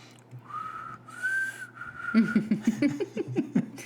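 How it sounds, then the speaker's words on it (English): A person whistles a long steady note, then breathes in and out in quick whistling puffs, close and fairly soft. "I can whistle in and out too"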